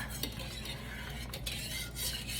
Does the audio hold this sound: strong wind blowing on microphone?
no